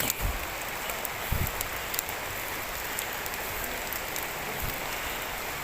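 Steady rain falls on a teak forest with a dense, even hiss, a few heavier drops pattering close by, and no voices.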